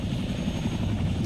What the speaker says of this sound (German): Guck mal, der Helikopter, ich glaube, der landet, oder?